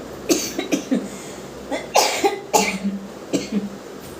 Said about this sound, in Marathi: त्याच्यामुळे ते ठसका आता आला मला